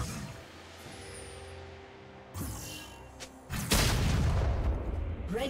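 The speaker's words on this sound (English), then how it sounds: "Blue team's turret has been destroyed." A turret being destroyed in League of Legends sets off heavy booming blasts, a sudden crash midway, then a louder sustained explosion over layered game sounds and music.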